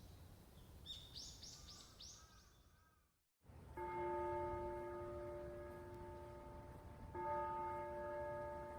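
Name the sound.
clock tower bell chiming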